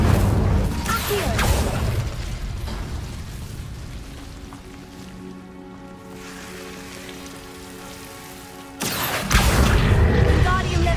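The Accio summoning spell is cast in Hogwarts Legacy, with a crackling burst followed by a fading tonal shimmer, then another loud magical whoosh near the end over a constant crackly ambience.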